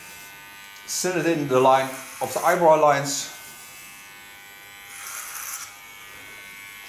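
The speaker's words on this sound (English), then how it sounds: "Take my large clipper again" A large electric hair clipper buzzes close by in two short bursts while cutting hair, and a faint further burst follows. A voice talks over it.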